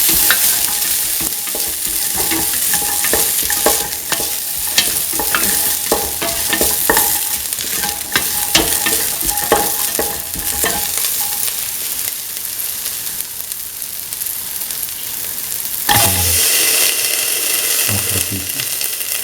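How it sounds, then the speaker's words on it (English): Garlic and ginger pieces sauté in a pan, giving a loud, close sizzle broken by frequent scraping stirs and utensil clatter. Near the end the sizzle briefly swells and shifts with a few knocks. "garlic and the ginger pieces. Keep on sauteing."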